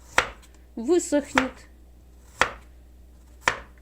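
Garlic being sliced into thin flakes with a knife on a board: sharp, separate chops spaced about a second apart, with a brief spoken phrase between the first and second cuts.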